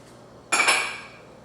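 A utensil strikes a bowl of Southern-style potato salad with egg yolks and mustard, a single sharp metallic clink that rings briefly and fades, alone in a quiet room.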